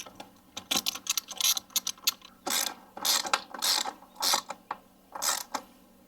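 A plastic clamp on a 2007 Toyota Highlander Hybrid air filter box is tightened in a run of close, bright ratcheting clicks, some quick and clustered, others in longer bursts with short gaps.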